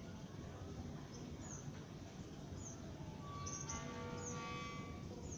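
Many house sparrows chirp in the late afternoon, their short, thin calls scattered and fairly faint over a continuous broadband background hum.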